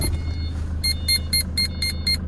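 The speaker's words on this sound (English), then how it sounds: "you can hear it going beep, beep, beep, which is perfect" A van's reversing sensor beeper sounds six evenly spaced, high, short beeps over a low engine idle, close and clear, with no talking.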